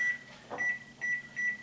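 A kitchen timer being set gives short electronic beeps, three or four evenly spaced tones close by in a quiet room, with a soft click or tap between them.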